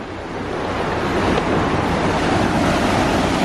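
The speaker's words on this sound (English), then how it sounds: "this lady is opening up the sluice gates down there to let all the water through and drop the level" Water surges through opened sluice gates in a canal lock, a loud, steady roar of rushing water close by that swells slightly and holds without pause, with no voices.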